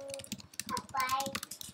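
Quick bursts of keystrokes tap on a computer keyboard while text is entered in Photoshop, close and fairly soft, with faint background murmur.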